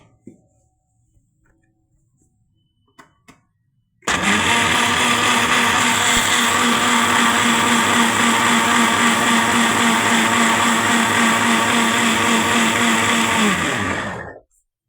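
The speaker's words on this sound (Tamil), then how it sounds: "க்ரீன் சில்லி நம்ம ஃபஸ்ட்டு அரைச்சிக்கலாம்" A mixer grinder runs on soaked green chillies, starting abruptly after a few faint clicks and then holding a loud, steady whirring drone for about ten seconds before it cuts off.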